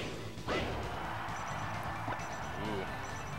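Loud hits from up smash attacks in a Super Smash Bros. match between Marth, Bowser, Pikachu and Young Link: a sharp crash near the start and a lighter strike later, over steady game noise and commentary chatter.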